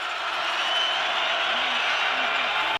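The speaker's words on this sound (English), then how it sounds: "This crowd is humming." A steady, broad roar from the stadium crowd at the 2008 Utah vs BYU college football game holds at an even level throughout, with a faint voice underneath, before cutting off abruptly.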